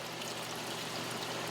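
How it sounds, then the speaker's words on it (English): Water drains out of a hot tub more than ten years old with a Sta-Rite pump, a steady, faint, continuous pouring rush with no pauses and no voices. "I'm going to actually take the water out of this tub real quick so we can do this without it pouring"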